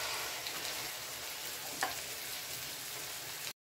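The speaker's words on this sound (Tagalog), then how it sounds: "pwede nang ilagay ang na-marinate na pork kanina" Marinated pork frying in a pan with cooked garlic and onion, a steady, dense close sizzle with one brief clink partway through before it cuts off.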